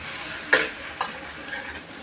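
A masala mix with green chillies, garam masala and chilli powder is stirred in a frying pan over a soft background sizzle, with two distinct scraping clinks of the spoon against the pan, the first louder than the second.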